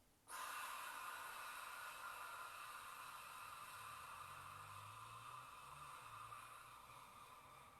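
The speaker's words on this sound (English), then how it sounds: "Breathing out, opening your mouth." A long, even exhale through an open mouth during a yoga breathing exercise, heard close up as a steady breathy hiss that starts abruptly and slowly fades.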